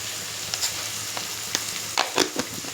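Onions sizzle in hot oil for a beaded egg and ridge gourd curry, a soft steady hiss broken by a few sharp crackles and light utensil taps, with no voices.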